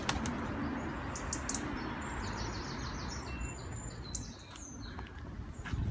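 Pigeons in Poitiers flapping their wings outdoors, a few close bursts of wingbeats over a busy ambient background with faint chirps.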